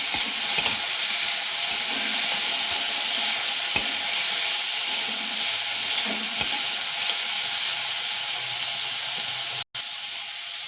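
Bitter gourd frying in mustard sauce in a pan, with a loud, constant close sizzle and steady hiss, a few faint scrapes of stirring, and a brief cut-out near the end.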